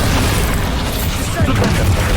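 Bombarda blast spell exploding in the Hogwarts Legacy video game, loud booming bursts in a dense, heavy roar of combat effects that carries without a break from start to end.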